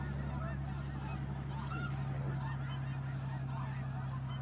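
Blue snow geese honk overhead in flight during a hunt over sheet water, a continuous chorus of calls at moderate distance over a steady low hum, with no speech.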